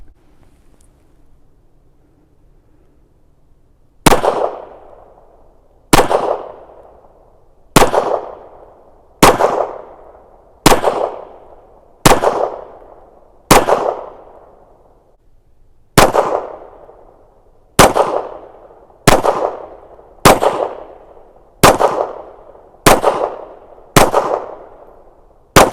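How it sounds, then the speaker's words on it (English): Ruger Security-9 9mm pistol firing during a break-in review at the range: fourteen sharp, loud reports after a quiet start, spaced about one to two seconds apart with a short pause midway, each followed by a brief echoing tail. "Great shooting little pistol."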